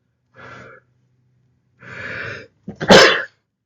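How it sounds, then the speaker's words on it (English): Two quick sharp inhales build up before one loud, close sneeze bursts out at the end. "I'm gonna sneeze again."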